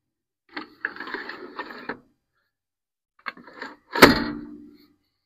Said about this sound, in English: mounting the battery, just a matter of that piece here sliding into here